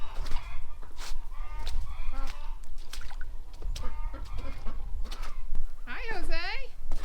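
Chickens cluck and call close by in a driveway on a market farm, a run of short clucks and squawks ending in a longer drawn-out call, over steady outdoor background noise.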